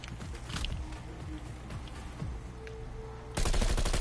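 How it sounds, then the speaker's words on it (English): MP5 submachine gun fire in Call of Duty Cold War, rapid bursts of close shots rattling repeatedly, ending in a louder sustained burst. "I think it's MP5."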